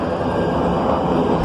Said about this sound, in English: This train is about to depart.